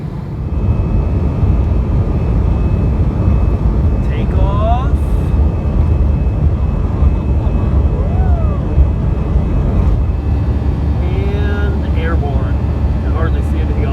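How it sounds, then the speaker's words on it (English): Steady, loud jet airliner rumble from inside the cabin while taxiing on the runway for a Ningbo to Guangzhou flight, a dense engine drone with faint chimes and whines drifting over it, no talking. "Taxiing."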